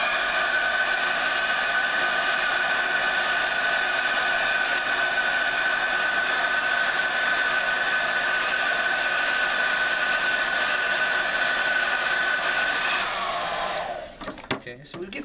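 A heat gun or hair-dryer-style heating tool blows in a steady, loud whine and rush while warming a Rockford speaker during a recone, then cuts off near the end with some handling clatter.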